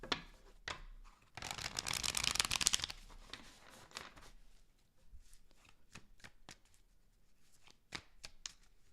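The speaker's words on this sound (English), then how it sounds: "Last shuffle." Tarot cards being shuffled by hand: a dense riffling burst early on, then a string of sharp, separate card snaps and taps, close and fairly quiet, with no talking.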